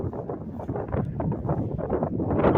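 Steady, strong wind of around 20 roars across the microphone near the shore at a fishing spot, a dense continuous rumble with gusty swells that builds slightly toward the end, no voices present.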